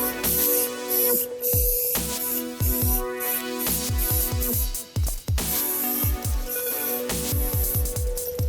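Spray paint hisses from an aerosol can onto car wheels in repeated bursts with short gaps, loud and close, with no talking.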